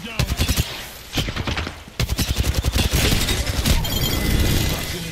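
Rapid automatic gunfire rattles in bursts during an Apex Legends solos match, loud and close, with brief pauses between volleys and someone speaking faintly over the shooting.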